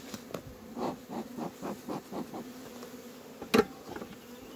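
Honey bees at a hive work around a beekeeper, giving a close, steady insect buzz with a series of soft rhythmic pulses and a brief sharper knock near the end.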